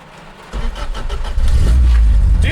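A Toyota 86 engine running on a base map cranks and fires up after throttle position and MAP sensor calibration, then revs, the loud low rumble rising and swelling in a short burst close to the microphone.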